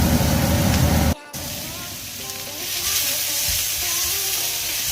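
Onions, ginger and garlic fry in a pan with a steady hiss of sizzling, loud at first, then briefly cut, then returning softer with faint clinks and background sounds.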